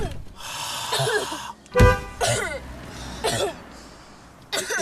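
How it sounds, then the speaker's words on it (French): A person coughs in several harsh, rough bursts spread across a few seconds, close to the microphone, with short quiet gaps between them. "tu peux t'arrêter de tousser 2 minutes là"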